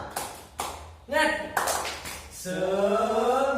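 A group claps out the rhythmic tepuk semangat chant during a training session: a few separate taps and claps, followed by a leader's voice calling the chant.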